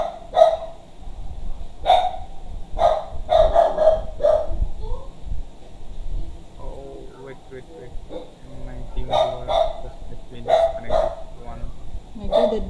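A dog barks repeatedly indoors in sharp, loud bursts that come in clusters with short pauses between them, while people talk alongside it.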